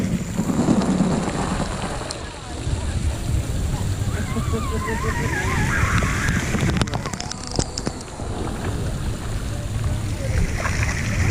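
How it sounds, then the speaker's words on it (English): Rain falling at an outdoor water park lazy river, a steady wash of patter and splashing water under nearby talk and some voices. "But now it's kind of raining as well."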